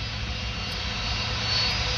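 An airliner taxis toward the runway at Paris Orly airport, its engines giving a steady, broad low rumble and whine at moderate distance with no break throughout.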